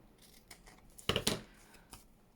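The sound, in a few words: scissors trimming a paper journal card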